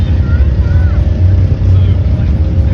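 An old Farmall 240 pulling tractor at a threshers reunion in Denton, North Carolina, its engine giving a steady, loud low rumble that holds for the whole stretch, with faint voices in the background.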